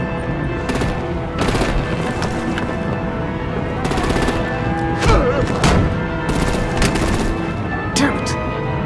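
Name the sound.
gunfire and artillery in the video game Batman: The Enemy Within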